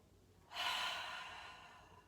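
A single big, full breath taken during a calm movement session, rising sharply and then easing into a long, gradually fading exhale, close and clear with no talking.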